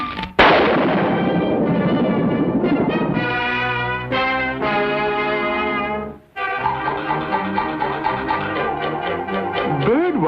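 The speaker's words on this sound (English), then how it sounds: "Oh, a little firecracker." A cartoon firecracker goes off in a Woody Woodpecker short: a sudden loud bang opens a dense crackling blast, followed by brassy orchestral music with a brief dropout, with no talk.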